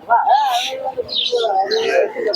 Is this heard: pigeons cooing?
yes